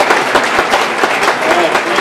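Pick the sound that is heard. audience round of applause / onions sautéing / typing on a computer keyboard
audience round of applause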